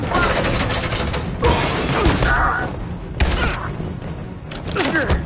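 Suppressing gunfire in Detroit: Become Human comes as loud bursts of rapid shots separated by brief lulls, with impacts and shouting voices over the fire.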